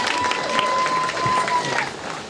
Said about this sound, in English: just a huge round of applause to these two and the future for them